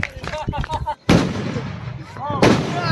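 Firecrackers go off among people celebrating, with two sharp, loud bangs that ring out after excited voices chatter and call out in the foreground.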